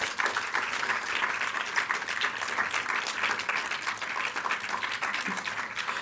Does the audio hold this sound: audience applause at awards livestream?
yes